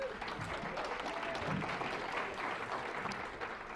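An audience at a medical lecture on ECMO gives a warm welcoming round of applause, steady, dense clapping that fills the room for several seconds.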